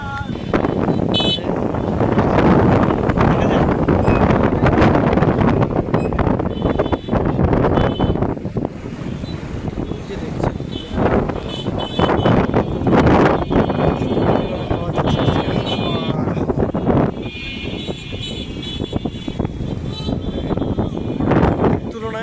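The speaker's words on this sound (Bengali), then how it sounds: "প্রচুর হাওয়া দিচ্ছে আজকে" Strong wind blows by a riverbank where boats, trawlers and small dinghies are moored, a loud, steady rushing that buffets the microphone throughout with gusty surges.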